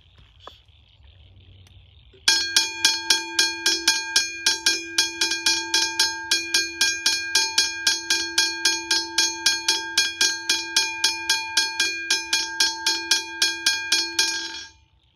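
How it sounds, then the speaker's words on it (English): A hybrid railway crossing bell with its gong fitted rings in rapid, steady strokes for about twelve seconds, loud and close, after a brief low hum, then stops abruptly. "so that was that hybrid bell"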